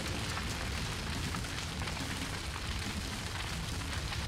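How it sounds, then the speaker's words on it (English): Hail or rain in the Mechwarrior 5 video game makes a dense, steady hiss of countless tiny impacts, loud and unvarying for the whole stretch, with no talking. "Sounds like it's hailing."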